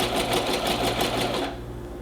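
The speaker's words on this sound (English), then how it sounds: "you're gonna go ahead and do your zigzag stitch right over them, keeping the shoulder seams open" A sewing machine runs a fast, loud zigzag stitch over the shoulder seams of a jacket facing, its rapid mechanical rhythm close up for about a second and a half before stopping.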